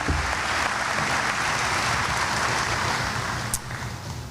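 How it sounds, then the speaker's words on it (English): Sustained audience applause at a high school commencement, a dense wash of clapping from a large crowd, steady and loud throughout. "Now we can clap for them."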